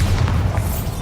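A single deep, booming blast from the Bombarda explosion spell in the video game Hogwarts Legacy, loud and low with a rumbling body that fills the short moment.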